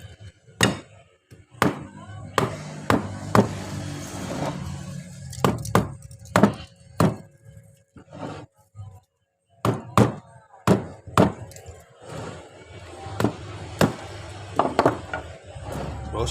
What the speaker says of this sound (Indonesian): ini cuma dari kayu yang ketok-ketok ya